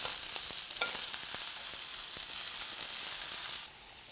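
Minced garlic and chilli flakes sizzle in hot oil in a pan, a steady close hiss with light scraping taps as they are stirred, then the sizzle drops quieter near the end.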